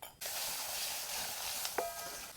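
Mustard seeds and chopped onion sizzle in hot oil with a close, steady hiss that runs throughout, broken by a brief clink near the end.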